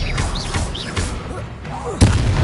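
Confringo fire spells blasting in the Hogwarts Legacy video game: several close, punchy bursts with a heavier thump near the end, over a busy game mix and chirping effects.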